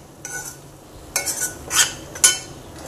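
A spoon scrapes and clinks against a pan of cooked tomato masala with oil separating at the edges, a few distinct bright stirring strokes spaced apart over faint background noise, close and moderately loud.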